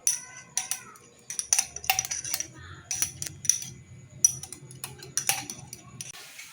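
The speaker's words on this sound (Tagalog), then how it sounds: "Halu-haluin" A spoon scrapes and clinks against a bowl as a salad with pickles is tossed, giving quick, irregular taps and chinks with short pauses between them, close and fairly quiet.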